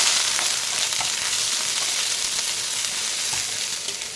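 Ginger dropped into hot oil for khichuri, giving a loud, dense, even hiss of frying that stays near and constant, with a few faint ticks of stirring.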